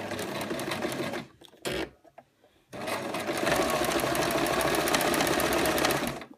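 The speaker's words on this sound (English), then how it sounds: "a piece of knit fabric, which we're just going to sew gently around the corner so you can see this in motion" A sewing machine fitted with a knit foot stitches knit fabric around a corner, a close, fast, even mechanical whir. It runs briefly, stops and goes quiet, then runs steadily again.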